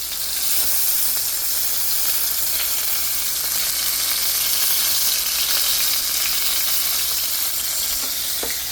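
A hamburger patty fries in a pan with a dense, steady sizzle, close and fairly loud, crackling continuously with small pops and no talking.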